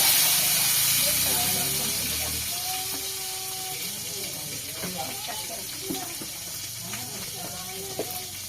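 Tomato pieces drop into hot oil already sizzling with mustard seeds and cumin in a pan, giving a loud, steady hiss and crackle that eases slightly over several seconds, with faint background voices.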